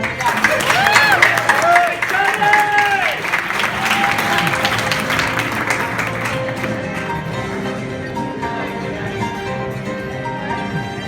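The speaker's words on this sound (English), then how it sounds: "Let's give one more round of applause." A round of applause from the audience at a Chabad Young Professionals evening event, dense clapping with some cheering, loud at first and then thinning into lighter scattered claps.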